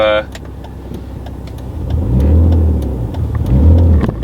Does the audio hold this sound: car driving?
yes